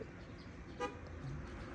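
Traffic on a roadside beside a yard of precast concrete rings, with a brief car horn toot cutting through the low background rumble of passing vehicles.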